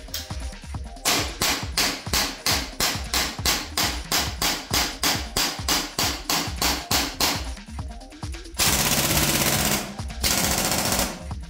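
Airsoft rifle with an ACETECH Bifrost tracer unit firing in sniper mode: about twenty sharp, evenly spaced shots at roughly three per second, loud and close, followed by two longer bursts of steady noise.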